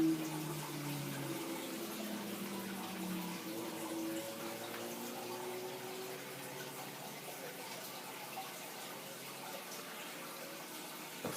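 Water pours steadily during a water change on a 90-gallon aquarium, a continuous, even rushing wash that holds at moderate loudness and close range throughout, with no talk.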